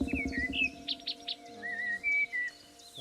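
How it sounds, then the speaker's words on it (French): A song thrush sings somewhat off to the right during a bird survey in the Haute-Touche reserve, giving a run of short, repeated whistled phrases and chirps, moderately faint, with no talking. "J'entends qu'il y avait une grive musicienne qui chantait sur la droite, un peu plus loin."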